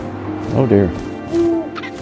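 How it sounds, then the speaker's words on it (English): An owl in the What Remains of Edith Finch video game gives a few low, tonal hoots, one drawn out longer, over quiet game ambience. "I'm controlling the owl now."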